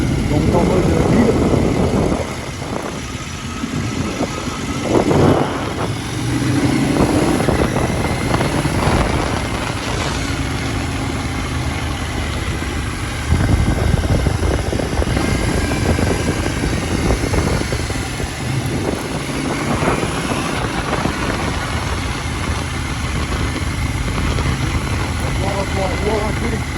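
KTM 790 Duke L in A2 trim with an XRACE exhaust being ridden, the engine droning steadily with shifts and rev changes through the ride while the rider talks over it.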